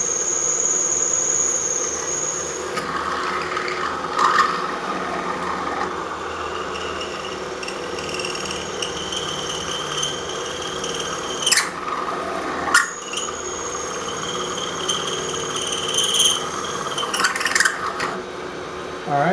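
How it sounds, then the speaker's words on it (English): Metal marine clip being reamed on a machine, giving a steady mechanical hum and whine with faint scraping, plus several sharp clicks and ticks spread across the run, no talking. "I'm going to come back and ream this"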